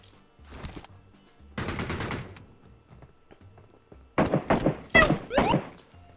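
Gunfire in the mobile battle royale game PUBG Mobile: a few scattered, sharp shot bursts early on, then a dense, loud cluster of rapid shots near the end, with no talk over them.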